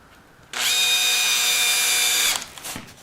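A power drill drives a screw into a fiberglass motorcycle part on a Honda Sabre cafe racer, one steady high whine lasting under two seconds, close and loud, then stopping.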